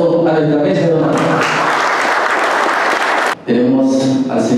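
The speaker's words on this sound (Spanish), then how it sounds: "brindando un fuerte aplauso a nuestra mesa de honor" A burst of applause for the guests of honor at a ceremony recognizing Chinese businesspeople, loud clapping rising between stretches of someone speaking over a microphone.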